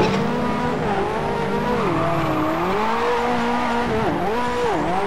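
A Nissan 180SX drifts sideways through the Lake Louise course in the Assetto Corsa racing game, its tires squealing in a loud, steady wail over the engine drone, the pitch bending and wobbling as the slide continues.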